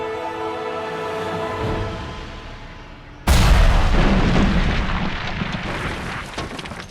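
A castle keep explodes in a video game, heard as a sudden, very loud boom that cuts off a sustained tonal musical passage and then tails into a long, rumbling, crackling roar.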